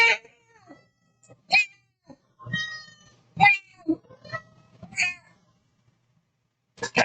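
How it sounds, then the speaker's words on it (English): A cat meows several times indoors, short wavering calls spaced by pauses with soft rustling between, fairly clear rather than distant. "Probably like a faint meow in the background."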